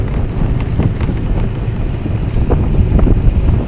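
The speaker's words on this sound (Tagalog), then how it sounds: "Malamig dito, pagka mahangin" Wind buffets and rumbles against the microphone in continuous gusts, loud and close, with faint scattered knocks and movement underneath.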